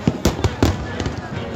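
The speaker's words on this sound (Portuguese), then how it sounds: "Queima de fogos na praia de Caraí" New Year's Eve fireworks over Icaraí beach, with a rapid series of sharp bangs and crackling bursts, loud and close, under a steady crowd-like wash of noise and some voices.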